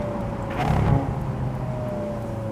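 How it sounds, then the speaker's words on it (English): Naturally aspirated V8 of a 2010 Ferrari California rumbling nearby, swelling briefly in a short rev before settling back to a steady, throaty idle, with no voices. "This is music to my ears. V8, naturally aspirated"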